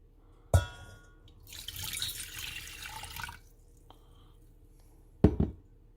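Warm water runs from a tap into a container for a bread dough mixture, a steady pour of about two seconds between a sharp knock at the start and another near the end.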